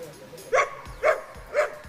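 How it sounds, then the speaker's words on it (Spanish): A dog gives three evenly spaced, close barks to ask for its ball, each short and clear against a quiet background. "para pedir su pelota tiene que ladrar"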